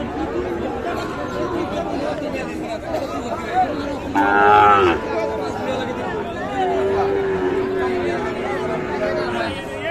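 Sahiwal bull calves and cattle at a busy village livestock market in Ambari, with a clear cow moo rising over steady crowd chatter and people talking nearby.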